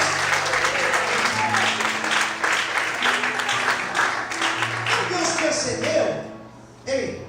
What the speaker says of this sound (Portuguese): Quem acredita nisso, glorifique e aplauda o nome de Deus nessa noite.